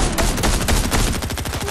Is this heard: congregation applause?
no